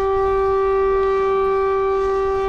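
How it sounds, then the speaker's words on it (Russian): A loud, powerful siren fitted to a motorcycle holds a steady multi-tone wail, continuous and close throughout over low rumbling background noise. "какая приятная сирена"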